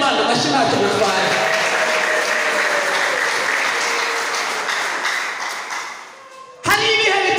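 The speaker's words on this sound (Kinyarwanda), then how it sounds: "Twongere dukomere Imana amashyi ntacyo bitwaye." A church congregation applauds in dense, sustained clapping that slowly fades, followed by a sharp burst of renewed clapping at the end.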